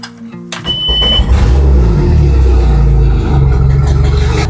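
A small boat engine cranks and catches, then settles into a loud, steady running drone that holds for several seconds with no voices over it.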